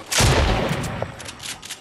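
A loud close burst of gunfire in Fortnite, a sharp blast followed by a few quicker fainter shots trailing off within about a second.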